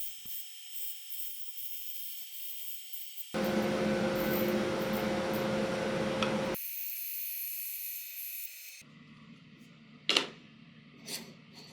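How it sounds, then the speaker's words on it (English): A bandsaw resawing walnut wood, a steady whining hiss that holds for several seconds at a time and then cuts off, followed by quieter handling and brief knocks. "So to release it, I'll use my bandsaw to resaw it,"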